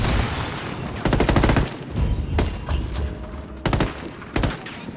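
Grenade blasts and rapid gunfire in the video game Ghost Recon Wildlands come in loud bursts, sustained automatic fire broken by sharp booming hits and short pauses.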